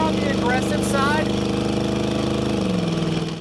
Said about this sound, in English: Has a good exhaust note to it. A little bit more on the aggressive side